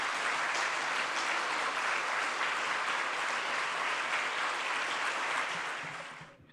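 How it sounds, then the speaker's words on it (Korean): A church congregation at a Sunday revival service claps together in a dense, sustained wash of applause that holds steady and loud before fading out at the end. "같이 박수로 같이 축복하도록 하겠습니다"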